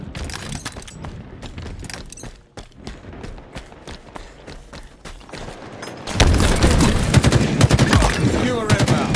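Rapid gunfire from the Halo video game crackles in dense bursts, building into a loud sustained barrage of shots and explosions toward the end, with game announcer voice lines mixed in.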